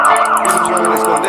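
A police siren wails in rapid, repeating up-and-down sweeps, loud and close, with a faint vehicle rumble beneath and no one talking over it.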